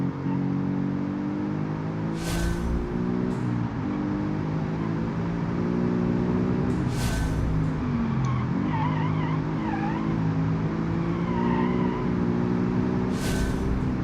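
A mid-engine rear-wheel-drive car in BeamNG.Drive braking hard, with steady engine drone, long tire squeals and sharp skidding screeches recurring over several seconds.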